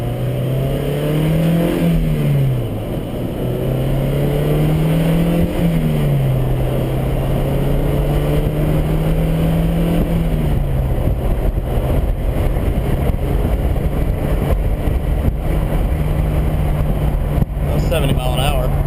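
A Toyota MR-2 ZZW30 drives at highway speed, its engine droning loud and steady from inside the cabin, pitch rising and dipping through several shifts over sustained road and wind roar.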